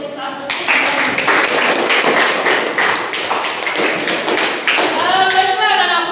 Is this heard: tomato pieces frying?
no